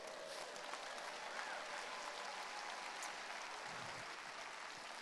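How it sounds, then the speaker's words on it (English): An audience gives a round of applause at the Archangel Summit in Toronto, Canada: a steady, dense wash of clapping that holds for the whole stretch and sounds somewhat distant and soft. "And give yourself a round of applause."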